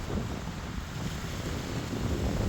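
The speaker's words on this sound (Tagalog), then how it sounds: "Malakas na ang hangin." Strong wind from an approaching super typhoon on Saipan, buffeting the microphone in a loud, continuous roar with no voices.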